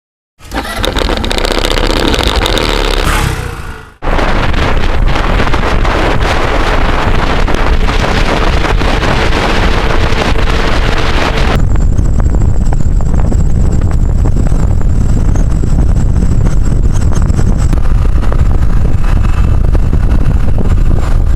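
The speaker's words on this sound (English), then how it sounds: "So we've been riding out on the SYM HD200 for a little while now to get a good impression of the bike" Loud, constant wind roar buffets the microphone while an engine hums underneath, the rush of riding a 2009 SYM HD200 scooter at speed.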